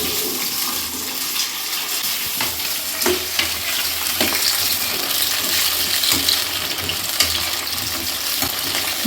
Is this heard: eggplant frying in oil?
yes